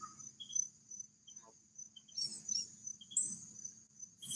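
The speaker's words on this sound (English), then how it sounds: "Bugs." Crickets chirp outdoors in steady high trills, fairly faint, with short extra chirps joining now and then over a quiet low background hum.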